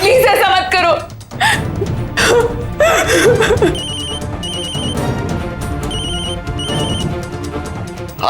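A telephone rings with repeated short electronic trills in regular bursts while a call is placed, heard under a loud music track and dramatic swells.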